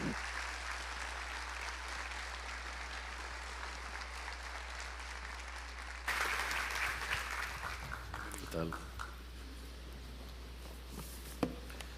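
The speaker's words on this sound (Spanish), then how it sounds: "Recibámosles con un fuerte aplauso." Audience applause welcoming a Spanish writer and historian to the stage at a lecture, steady clapping that grows denser partway through and continues as a sustained wash before fading.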